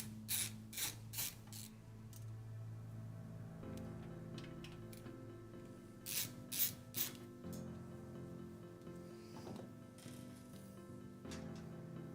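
Small screws being backed out of a metal PC case bracket during a desktop build, heard as quiet ratcheting screwdriver turns and scraping bursts in irregular runs against a steady low room hum.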